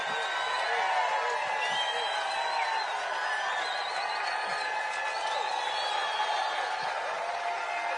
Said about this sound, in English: A lot of cheering